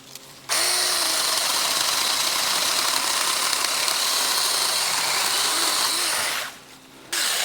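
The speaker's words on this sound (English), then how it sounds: "Going right through that white birch. That's hardwood." A Saker 6-inch mini electric saw cuts through white birch hardwood with a loud, steady, close-up motor whine and chain noise that lasts about six seconds. It then winds down to a quieter idle.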